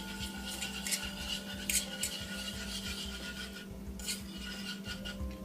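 A whisk scrapes and rasps against a pot while thick roux is worked into a shrimp and crab bisque, a steady close scratching rhythm with brighter metallic strokes now and then, alone without talk.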